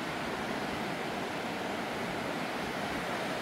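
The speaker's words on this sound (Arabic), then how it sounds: "وهذا الشلال" Waterfall in the Verzasca river valley of southern Switzerland, roaring as a constant broadband rush of falling water, loud and close, with no voices over it.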